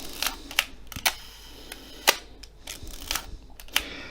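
A Nikkormat FT camera's horizontal shutter clicks several times at slow speed in sequence, each firing a sharp mechanical snap with a slight gap, fairly close and distinct over a quiet background.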